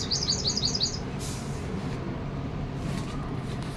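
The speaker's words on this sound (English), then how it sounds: "Another variety of bird had just arrived." Small birds near a nest give a quick run of high, thin chirps in the first second, then fall silent over a low steady background rumble.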